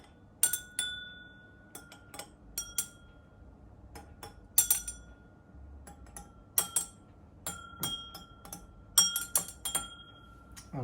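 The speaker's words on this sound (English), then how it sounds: "I'm gonna give it a bit of a stir." Ice cubes clink and rattle against a glass as a drink is stirred, producing sharp, bright, irregular taps close up in an otherwise quiet room.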